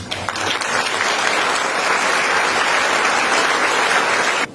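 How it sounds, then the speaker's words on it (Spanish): Strong, sustained applause from a conference audience honoring a priest, a dense and even roar of many hands clapping that holds steady before cutting off near the end. "Les invito a que brindemos un fuerte aplauso al presbítero doctor Erasmo Norberto Bautista Lucas."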